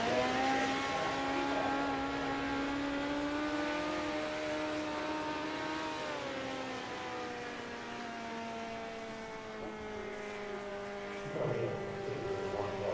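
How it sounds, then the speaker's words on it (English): A midget race car engine drones on a dirt track, a steady whining tone that rises and falls in pitch as the car laps, heard from a distance at moderate loudness with no talk. "Barger, he's still running around here, getting a feel for that car."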